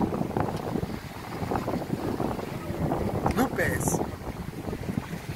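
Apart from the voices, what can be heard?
wind blowing at sea while on a boat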